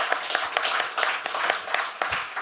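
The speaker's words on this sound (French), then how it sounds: "On vous applaudit." Dense audience applause at the close of a round-table on ecological transition in the dental sector, a continuous wash of many hands clapping with scattered sharper claps, steady and fairly loud throughout.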